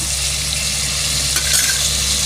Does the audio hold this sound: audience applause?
no